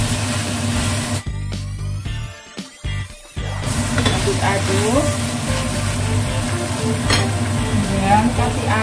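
Jengkol and coarsely sliced tomatoes stir-fry in a pan with a steady, close sizzle, broken by scraping spatula strokes and a brief quieter stretch, as someone talks over the cooking.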